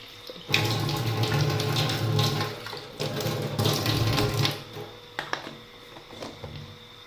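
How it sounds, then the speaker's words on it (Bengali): Water running from a tap to fill a container at home, a steady close rush that swells and eases, ending with a few clattering knocks as the flow stops. "জলটা ভরে দিই"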